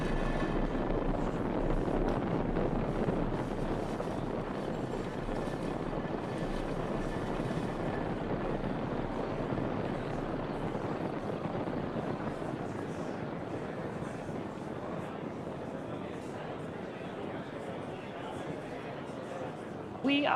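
SpaceX Falcon 9 carrying the Transporter-8 mission lifts off from Space Launch Complex 4 East, a continuous broadband roar that holds steady throughout, distant and wind-buffeted rather than crisp.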